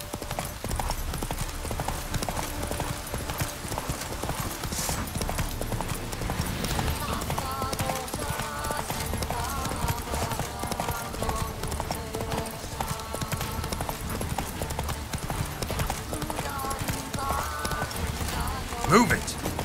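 Roach the horse trots along with steady, rapid hoof clip-clops in The Witcher 3, the hooves running continuously under game music and ambience for the whole stretch.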